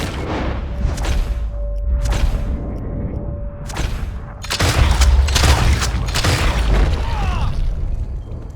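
Gunfire in the western game Red Dead Redemption 2, set in the bayou, a string of loud booming shotgun-like blasts spaced about a second apart, then a denser, louder cluster of shots with game ambience between.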